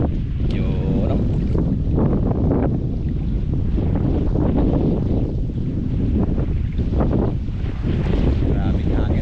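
Strong wind roars across the microphone on a boat at sea, a loud, constant buffeting rush with surging water beneath and a faint voice briefly audible.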